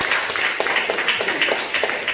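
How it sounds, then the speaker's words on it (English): A church congregation claps its hands in a continuous, fairly even stream of many claps, with a few louder accents coming through at moderate distance. "clap your hands"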